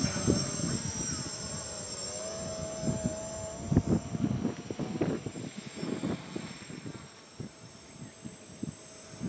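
A Box Quad drone with no GPS flying outdoors, a continuous whining motor buzz with pitch shifts as it maneuvers, moderately loud and fairly near.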